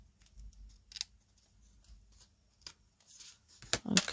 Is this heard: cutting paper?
yes